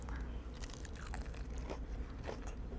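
Biting into and chewing a crunchy, fluffy smoked bacon croquette: close, faint crackly crunches repeating for a few seconds with no talking.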